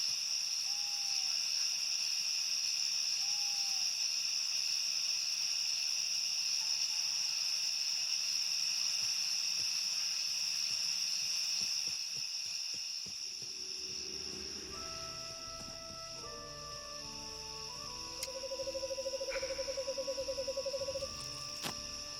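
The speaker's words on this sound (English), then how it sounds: "Those are some loud ass cicadas." Loud, steady cicada drone in Shenmue III, a constant shrill buzz throughout, with quieter game sounds and musical tones joining in the latter half; no talk.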